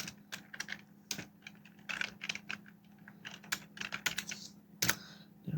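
Keywords tapped out on a computer keyboard, a quiet, close run of uneven clicking keystrokes in quick bursts with short pauses and a faint steady hum underneath.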